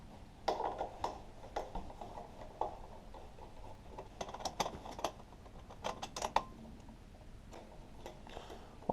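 Engine bolts being removed by hand during an engine component swap: a scatter of light metallic clicks and ratcheting ticks, irregular and close, at low level over a quiet background.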